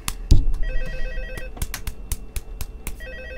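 An office telephone rings in the video game Five Nights at Freddy's 2, repeated bursts of trilling ring tones with sharp clicks and thumps between them, loud and near.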